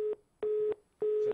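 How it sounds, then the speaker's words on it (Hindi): A repeating telephone disconnect tone on a TV call-in line: short, even beeps with equal gaps, like a line that has dropped. "फोन डिस्कनेक्ट हो गया"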